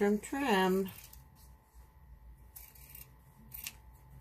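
Scissors trim double-sided tape on a handmade Valentine card, a few quiet snips and crisp clicks close by after a short spoken phrase.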